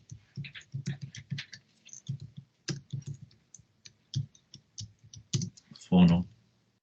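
Typing on a computer keyboard in bursts of close, crisp key clicks with short pauses, ending in a louder clack, while someone speaks Spanish quietly in between.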